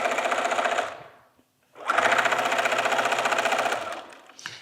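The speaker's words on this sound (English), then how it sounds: "drop your needle down into that orange dot, sew forward and then back, and then sew all the way down to the last orange dot." Sewing machine stitching fabric for a Japanese rice bag, a fast steady mechanical whir and needle rattle, close and loud, stopping briefly for a short pause before running again.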